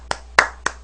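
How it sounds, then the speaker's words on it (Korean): Three sharp, separate hand claps in under a second, close and fairly quiet, the middle one strongest, with no voices. "닌자님의 열변에 대해서 박수 한번 보내주시게요"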